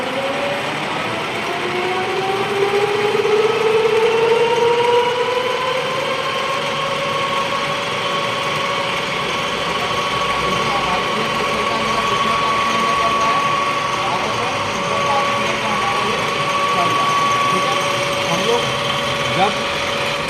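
A lathe runs steadily in a workshop, its motor giving a continuous hum with rising and settling tonal whines that hold through the whole stretch at fairly close range.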